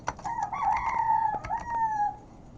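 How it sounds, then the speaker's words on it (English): A rooster crows once at night, one long drawn-out call lasting about two seconds, close and clear over a quiet background with no talking. "sorry for the rooster, because it's already 1 a.m. at this time"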